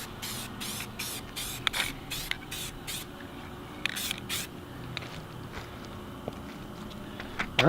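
An aerosol spray can lays a light first coat of paint onto fiberglass tweeter pods in short repeated bursts, roughly a dozen quick hisses with brief gaps, close and fairly quiet.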